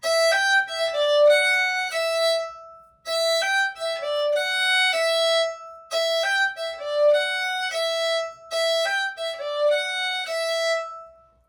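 A lively jig melody on a solo instrument, plain quick notes in bouncing phrases separated by brief pauses.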